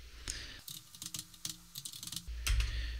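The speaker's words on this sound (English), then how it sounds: "I'm going to type BPI, OPS, and so on, and I'm going to press the control spacebar button to fill the rest of the command" Computer keyboard typing while entering code: a quick run of close, light key clicks in uneven bursts, with a heavier thump near the end.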